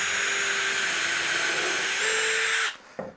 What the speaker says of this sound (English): so I can pre-drill a hole.